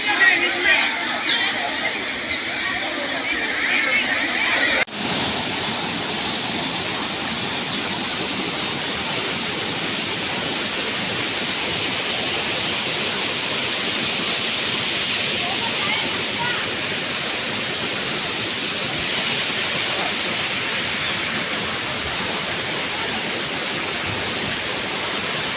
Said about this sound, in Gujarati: જો ઉપરથી પાણી આવે જે કેઠે આ ધોધમાં પડે.